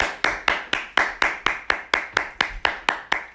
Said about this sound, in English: Please, stop clapping, recorded version of me.